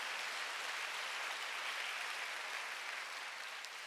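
A church congregation at a Sunday worship service claps steadily in a uniform wash of applause, somewhat distant and fairly quiet, with no voices over it.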